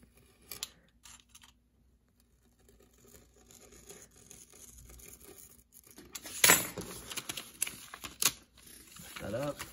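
A razor blade slices through paper while an F-14 paper airplane is being made, giving short scratchy cutting strokes that are faint at first and then sharper and louder near the end.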